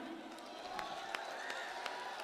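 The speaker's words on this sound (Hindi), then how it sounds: "एक बार मिलकर तालियां बजा दें" An audience at a mushaira poetry gathering in Sant Kabir Nagar, Uttar Pradesh, claps steadily, a dense crowd applause heard from a distance with a few sharper claps standing out.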